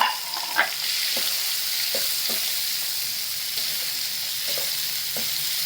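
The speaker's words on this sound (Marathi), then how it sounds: "कांदा टोमॅटो हिरव्या मिरच्या अद्रक लसूण थोडं परतून घेते" Onion, tomato, green chilies, ginger and garlic sautéing in a pan for a Marathi-style paneer masala, a steady close sizzle with a few soft scrapes and taps of a stirring spoon, no talking.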